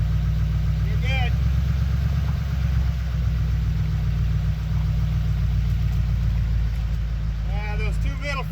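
A truck engine idles close by with a deep, even rumble as it pulls a floating boat lift out of the water, and short bursts of voices and squeaky sounds are heard over it.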